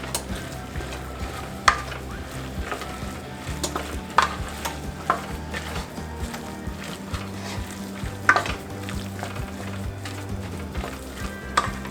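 Beef taco filling for chalupas sizzles in a pan while being stirred, with repeated scraping and knocking of the utensil against the pan over a continuous frying hiss, close and moderately loud.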